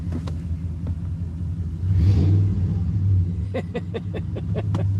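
A truck engine given a little gas: a deep, steady idle rumble swells into a short rev and then settles back, with sharp ticking clicks scattered over the drone.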